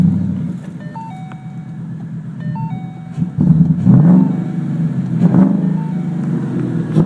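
A 2013 Ford Mustang GT V8 fitted with a JLT cold air intake idles in neutral with a steady low rumble, then gives a few sharp revs with intake whoosh rising and falling, close and loud with no talking.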